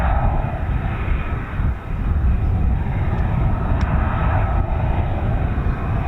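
An F-35B stealth fighter jet hovering at an RAF air display sends out a loud, continuous roar that holds steady for several seconds with no talking.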